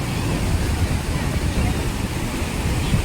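Sea waves wash up continuously at Porbandar's Chowpatty beach, a dense, steady rumbling surf roar at close range, with some wind noise mixed in.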